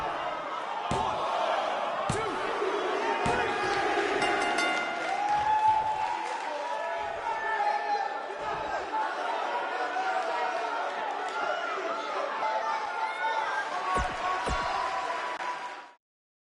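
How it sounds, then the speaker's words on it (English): Live arena crowd in the WWE 2K19 wrestling video game, a loud sustained roar of cheering with slams and thuds punctuating it throughout, cutting off abruptly at the end. "The live crowd loved it."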